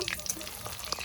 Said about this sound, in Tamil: ஆனால் இந்த பொரிஞ்ச நுரையெல்லாம் அடங்கணும்